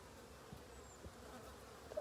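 Honey bees in an opened hive, where a red-marked queen is being raised, give a steady, faint hum throughout with a few soft knocks and a brief brighter sound at the end.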